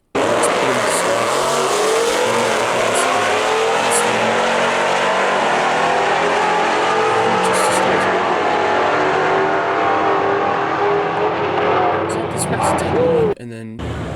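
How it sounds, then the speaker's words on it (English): A Dodge Charger Hellcat with an automatic transmission makes a hard run, its engine roaring loudly and climbing in pitch through repeated gear changes, then cutting off abruptly near the end. "So here's a Charger Hellcat, so it's automatic for sure."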